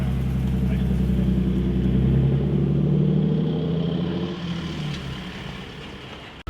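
A BMW E46 engine runs at a steady idle after being started, a close, loud low rumble that eases slightly toward the end before a short knock.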